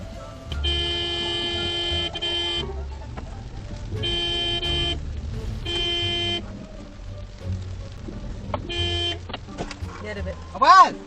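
A Proton Saga's horn blares in three long, loud blasts with short gaps, then a shorter toot, amid traffic rumble, with a voice briefly audible near the end.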